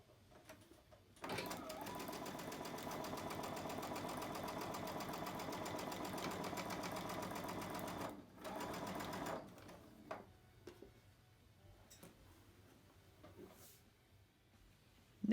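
A sewing machine stitching quilt blocks together runs in a steady, fast mechanical whir with a brief pause, then stops and gives way to quieter handling noises and small clicks.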